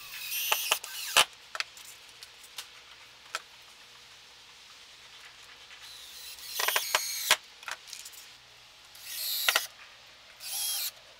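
Stainless steel screws are driven to fix straps to the underside of a cedar hot tub floor, heard as short, loud mechanical bursts with quiet gaps and scattered ticks between them.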